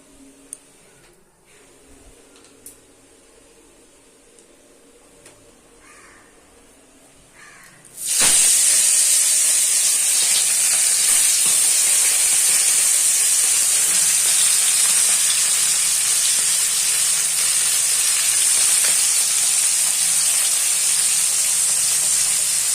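Amudi fish dropped into hot oil, a quiet room giving way to a sudden loud burst of frying that settles into a strong, steady hiss and crackle.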